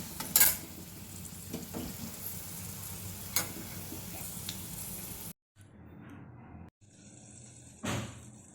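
Crackling sizzle of dried red chillies and curry leaves tempering in hot oil with a few clinks of a utensil, then the sound cuts out to quieter, intermittent sizzling and a sharp clink.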